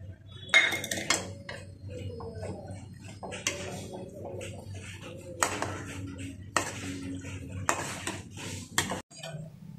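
Spoon clinks and scrapes against a pan as a mango pickle mixture is stirred over a low flame, in irregular bursts of clattering metal with quieter gaps between.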